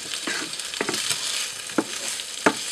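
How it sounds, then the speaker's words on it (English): Pre-cooked roast turkey breast chunks fry in a pan for fajitas, giving a loud, bright sizzle throughout, broken by several scraping stirs close by. "Right, so I'm just going to give them a quick stir, so that they're not going to burn on one side"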